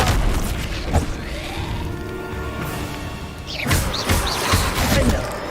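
Bombarda blasting-spell explosions in the Hogwarts Legacy video game boom loudly and close, several heavy blasts and crashing impacts with rumbling tails, first scattered, then clustered near the end.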